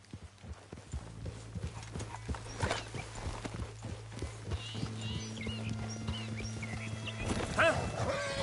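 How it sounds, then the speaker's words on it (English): Horse hooves clip-clop in a steady walking rhythm in the video game Red Dead Redemption, with a low hum underneath and a brief whinny near the end. "Get a hold of that horse, Morgan."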